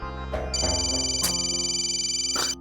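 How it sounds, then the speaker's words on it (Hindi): A phone rings with a steady, sustained electronic tone, interrupted by a few brief rustling sounds nearby. "फोन बज रहा है तुम्हारा"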